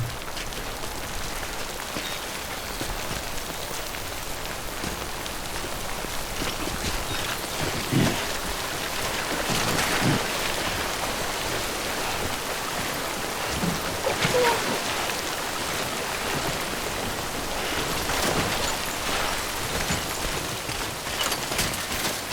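Steady rain pours down in the Death Stranding video game, a dense, even hiss of timefall that carries unbroken and fairly loud with scattered heavier patters and no voices.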